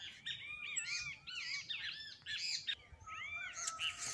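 Birds chirp near a thrush's nest in a home garden: quick bursts of bright tweets and warbled calls repeat in close succession, fairly near and unaccompanied by speech.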